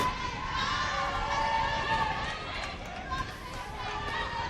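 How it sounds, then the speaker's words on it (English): A crowd at a college volleyball match cheers and shouts in a gym, a steady roar of many voices and squeaks that swells slightly before easing. "the crowd's sensing it now, starting to get a little bit louder"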